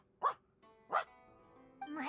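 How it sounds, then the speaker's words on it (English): A dog in a video game (Genshin Impact) gives two sharp, separate barks, followed by a short whining yelp, with a faint tonal hum underneath. "that's just a dog barking"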